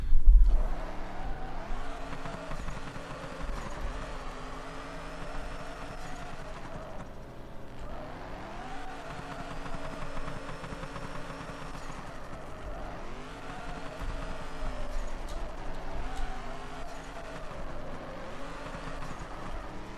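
A 478-horsepower Toyota Corolla drifts in the video game Drift Streets Japan, its engine revving and droning loudly with rising and falling pitch in repeated sweeps, and tires squealing through the slides. No one speaks.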